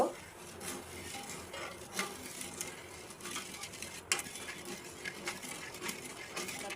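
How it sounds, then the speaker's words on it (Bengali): Salt being stirred by hand into water in a pot to make brine for preserving raw mangoes, a close, continuous scraping swish with small clinks of utensil against the vessel. "লবণ দিয়ে আমি একটা দ্রবণ তৈরি করব এই লবণটাকে ভালো করে আমি গোলায় নিব"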